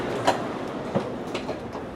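A Shinkansen high-speed train runs on rails, heard from onboard as a steady low rumble with a few soft rhythmic clicks and knocks, moderately loud, with no voices.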